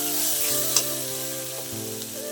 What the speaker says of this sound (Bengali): দিয়ে আবার আমি মশলাটাকে ভালো করে কষিয়ে নেব।